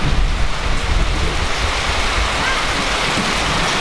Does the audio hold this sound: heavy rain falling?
yes